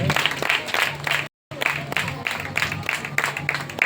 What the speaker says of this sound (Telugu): చప్పట్లు కొడదాం ఈ యవనస్తురాలకి